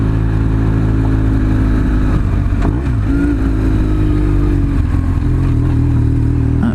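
Adventure motorcycle riding a gravel back road near Antietam in Maryland, a loud steady engine drone up close with a shifting tone as the bike rolls on, crunching and clattering faintly beneath the motor.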